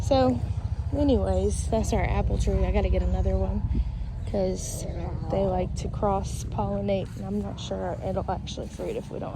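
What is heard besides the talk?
None of the usual background noises is heard.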